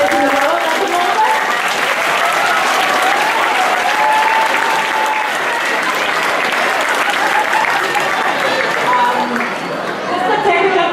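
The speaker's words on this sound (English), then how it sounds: "a very big applause for Med." Students in a Greek school hall applauding a visiting elite athlete, loud sustained clapping with some chatter and cheering mixed in, lasting throughout.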